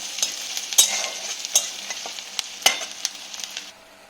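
Onions fry in a pan for a spicy salted sea-fish curry, a steady bright sizzle broken by several sharp scraping stirs of the spatula, with no voices.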